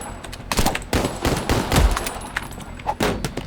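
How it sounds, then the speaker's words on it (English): Rapid gunfire in the game Madness: Project Nexus, with a zombie firing a pistol alongside other shooting, loud close cracks coming in quick irregular bursts over a few seconds. "Wait, is the Mag firing a gun at me?"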